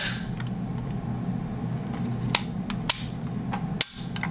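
Three sharp, distinct mechanical clicks from a rifle trigger being dry-fired during a function check after an ambidextrous sling adapter install, spaced about half a second to a second apart over a steady low background hum, with no speech.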